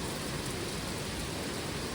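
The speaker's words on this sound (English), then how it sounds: "so far, just rain, not a lot of wind" Heavy rain pours steadily during a storm with a tornado watch, a dense even hiss with no breaks and no voices.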